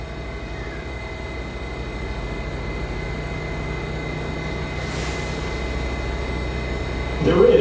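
An R188 7 subway train rumbles at Court Square station on the Flushing Line, a steady low roar of wheels and motors close by, swelling louder at the very end.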